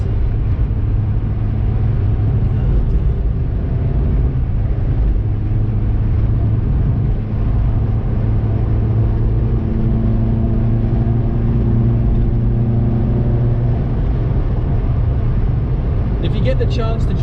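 A restored Ford Escort RS1600i engine drones steadily nearby with a throaty exhaust note, its pitch holding and shifting slightly as the car drives, with a voice talking over the sound.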